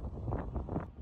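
Wind buffeting the microphone while riding a bicycle on a bikepacking trip in the Morvan, a close, loud, low rumbling roar with gusting swells over about a second, no speech.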